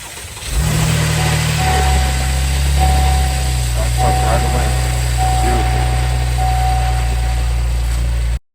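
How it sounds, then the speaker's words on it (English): A 2024 Buick Enclave Avenir, salvaged after a crash, starts up with a quick crank and settles into a steady, loud, close idle that runs evenly until the end. "Now it is time to try starting this vehicle."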